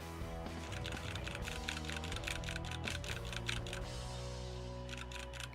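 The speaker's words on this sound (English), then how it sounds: "I'm going to clack my keyboard next to the microphone and see if it picks it up." A computer keyboard clacks right beside the microphone in rapid, irregular bursts of typing keystrokes over a steady background hum, fairly quiet overall.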